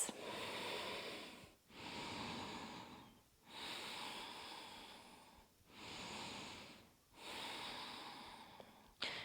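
Slow, deep breaths drawn through the nose while holding a yoga pose, four long hissing inhales and exhales in a steady rhythm, close and quiet with clear pauses between them.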